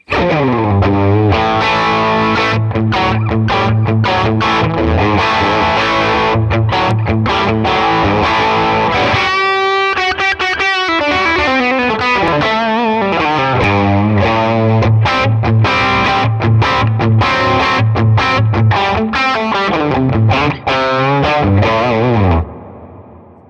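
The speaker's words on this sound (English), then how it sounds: "Here's what the lead channel sounds like if I just dime it, and it's a little bit more mid-bite here." Electric guitar played through the dimed lead channel of a Tone King Imperial amp plugin, distorted with mid-range bite and a touch of reverb, with sustained chords and melodic lead lines running continuously and loud, no talking.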